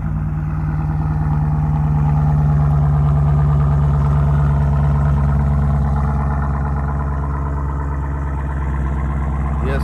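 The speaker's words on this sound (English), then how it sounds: "I'm gonna give you all a cold start" A Jeep Trackhawk engine idles loudly and steadily close by on a cold start, a deep rumbling burble with a rough, lopey pulse throughout.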